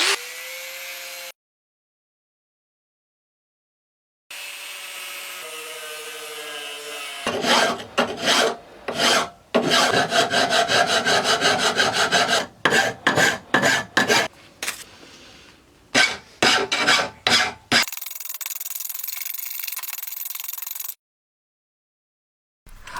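A hand file rasps over welds on pieces cut from 5mm steel plate, built for a scratch-made wood lathe bed; a run of loud, rapid back-and-forth strokes in uneven bursts, close up and alone, with quiet gaps around it.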